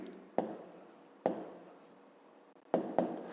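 A pen scratches on paper in a few quick strokes separated by pauses, faint and close, with no talk.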